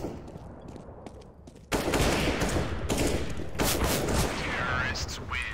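Counter-Strike game gunfire, a loud sustained burst of rapid shots that starts abruptly after a quieter stretch and keeps going under faint background sounds.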